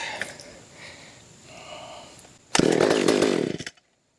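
A McCulloch Mac 130 chainsaw, back in service after years of sitting, starts up after a few quieter pulls and mechanical sounds, then runs loud and buzzing for about a second before cutting off abruptly into silence.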